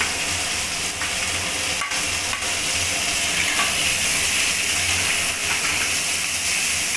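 Chopped onion and tomato fry in hot oil with garlic and prawn heads, giving a loud, continuous close sizzle with faint stirring scrapes throughout.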